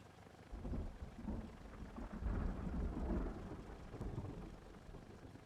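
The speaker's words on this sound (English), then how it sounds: "Sounds like the sounds of the thunder look pretty good" A thunderstorm in the Prepar3D V5 flight simulator, heard from a Cessna 172 Skyhawk, brings steady rain and a deep rolling rumble of thunder that swells and fades, fairly faint overall.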